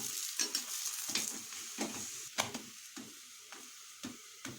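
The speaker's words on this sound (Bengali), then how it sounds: "এটা সাদা তেলে ভাজছি।" Pea paratha fries in white oil, giving a light, close sizzle broken by repeated scraping strokes of a spatula in the pan, several distinct bursts in an irregular rhythm.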